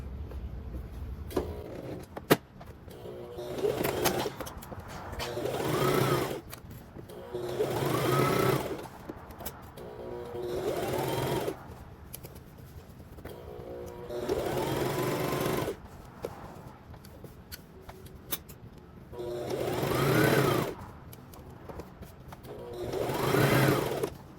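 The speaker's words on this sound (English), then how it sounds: "this will be just usual straight stitch at 5/8 of an inch seam allowance" A sewing machine runs a straight-stitch seam at a 5/8-inch allowance on a McCall's 7976 women's top, in several close, loud bursts of rapid stitching separated by short pauses with light handling noise.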